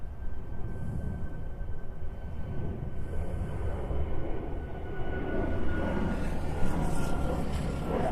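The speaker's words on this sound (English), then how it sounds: "there's a plane out there somewhere" A plane near Honolulu airport drones steadily in the distance, a broad, continuous rumble that swells slightly toward the end, with no talk over it.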